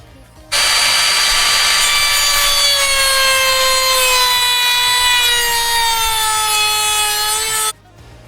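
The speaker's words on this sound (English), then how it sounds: "we're going to do the routering just now anyway" A power router cuts into a wooden board for overhead campervan cupboards in a VW van, whining loudly and steadily at a high pitch that drifts slightly lower for about seven seconds, then stops abruptly.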